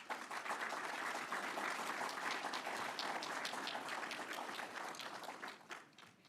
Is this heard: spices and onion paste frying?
no